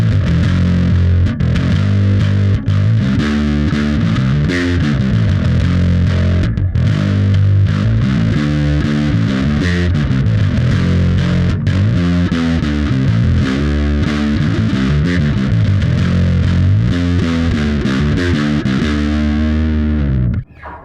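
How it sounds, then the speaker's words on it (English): Fender Mike Kerr Jaguar bass played through an Earthquaker Devices Westwood overdrive pedal, a thick, gritty driven bass line with steady rhythmic notes, loud and continuous for about twenty seconds with no talking. "Overdrive, this is the Earthquaker Devices Westwood."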